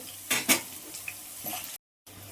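Curry leaves crackle and sizzle in hot oil in a pan, with a few stirring scrapes and short bursts of spattering, and a brief silent gap near the end.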